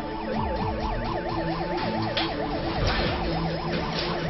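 A wailing ambulance siren sweeps up and down continuously, loud and close, over the low rumble of the arriving ambulance and traffic.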